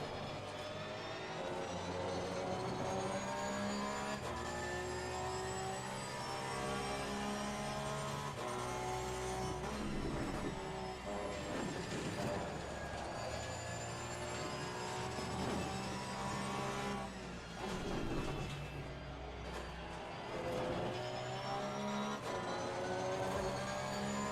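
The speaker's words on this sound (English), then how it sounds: "Love the sound of this Porsche, man." A steady, loud Porsche 991 II race car engine drone in Assetto Corsa Competizione at Kyalami, layered harmonic tones holding throughout, shifting pitch slightly as it runs, with no talking over it.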